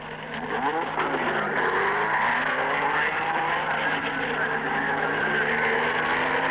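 Repco Brabham race cars roar around the Longford circuit in 1964, engines rising and falling as they pass through the corners, heard as an old, slightly muffled recording with a steady mechanical drone.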